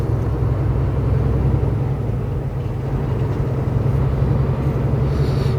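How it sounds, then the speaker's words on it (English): A train rolls past on a snowy northern oil-country route, heard as a steady, loud low rumble with constant wheel and engine roar throughout and no voices. "The train."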